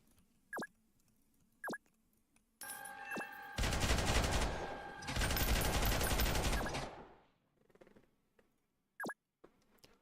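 Artillery shelling and gunfire in the combat video game Noobs In Combat: Cold Front, with a few sharp isolated shots, then a loud sustained roar of rapid fire and blasts lasting several seconds before it tapers off and single shots return.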